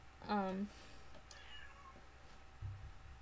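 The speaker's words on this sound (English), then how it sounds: "That is one of our other cats." A vocal house cat lets out one clear, close meow, followed by quieter indoor room sounds and a faint low bump near the end.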